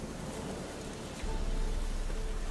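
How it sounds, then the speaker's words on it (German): Rain in The Witcher 3 falls as a steady, dense hiss that swells noticeably heavier about halfway through, with no voices over it. "Sieht nach Regen aus"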